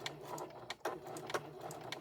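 A sewing machine back-stitching the neck seam of a handmade memory bear, heard as quiet, close, rapid mechanical stitching in short bursts with a brief pause partway through.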